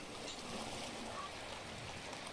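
Gentle running water trickles steadily through a clean fish pond setup on raised ground, a faint, continuous stream-like wash with no talking.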